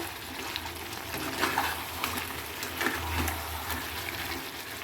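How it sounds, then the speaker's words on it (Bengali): Chicken curry being stirred in a pan, soft wet scraping and sizzling with a few sharper clinks of the spoon, fairly quiet and close. "এবার একটু ভালো করে নাড়াচাড়া দিয়ে নেব।"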